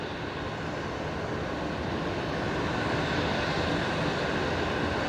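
Jet airliner taking off at night from Brisbane Airport, a steady, broad engine roar that swells slightly as it continues, heard from a distance with no talk.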